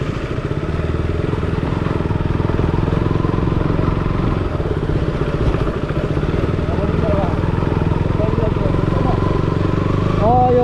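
A KTM Duke 200 motorcycle ridden off road on a rough mountain track in Nepal gives a loud, steady engine drone with clattering throughout, close by, with faint voices underneath.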